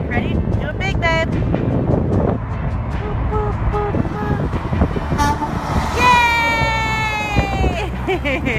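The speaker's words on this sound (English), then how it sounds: "Malloy is going to show baby Colston how to make semis honk." A semi truck's air horn sounds one long, loud blast late in the clip, after a stretch of roadside traffic noise and people talking.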